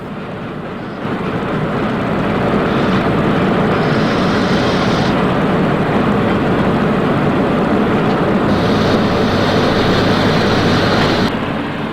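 A steam tank locomotive running light engine through a station in East Germany, a loud continuous rumbling and hissing roar that builds after the first second and holds steady, with no talking.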